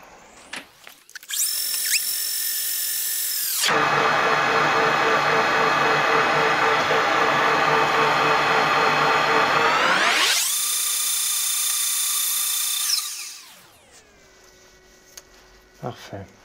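A machine tool takes a light cutting pass with reversed feed, a loud, steady high whine that starts, runs for several seconds, pauses, then spins up again and winds down.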